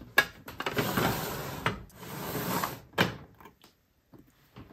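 Cosmetic drawers slid open and shut several times at close range, with broadband wooden rubbing and scraping in bursts, then small knocks and clicks trailing off into quiet.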